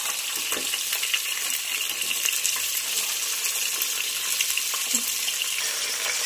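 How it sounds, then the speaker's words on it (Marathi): Mixed vegetables for pav bhaji fry in a pan, a constant close sizzle with occasional scraping and clinks from stirring, no voices. "तर आपल्याला यामध्ये सर्व भाज्या घालून घ्यायच्या आहेत"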